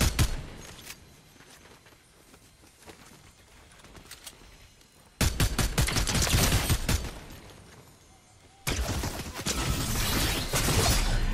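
Gunfire in Fortnite: soft scattered shots give way to two loud bursts of rapid, crackling fire, close and harsh, each running for several seconds.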